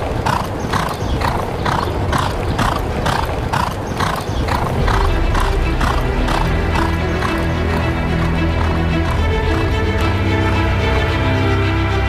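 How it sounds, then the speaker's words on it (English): The racehorse stallion American Pharoah moves on a stud farm with steady rhythmic clip-clop hoofbeats, close and loud, continuing throughout with a low rumbling background. "Now American Pharoah is a stunning stallion with about 150 foals expected to be born in just a few months"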